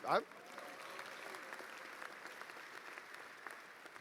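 Sustained audience applause at a 2019 Guttman Community College commencement ceremony, opening with a brief louder burst and then settling into a steady, dense wash of clapping that continues for the whole stretch.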